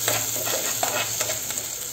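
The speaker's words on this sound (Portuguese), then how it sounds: "Trouxe a cebola aqui pro fogão, botei um pouquinho de óleo, vou esperar dar uma douradinha" Onion fries in a little oil on a home stove, giving a steady close sizzle with light stirring and scraping sounds throughout and no talking.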